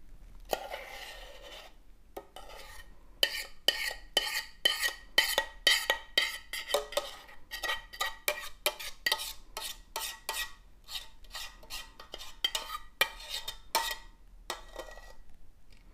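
Pineapple tart filling is spread and smoothed over pastry dough with a utensil, giving a series of close, rhythmic scraping and tapping strokes against the dish, fairly quiet with short pauses between passes.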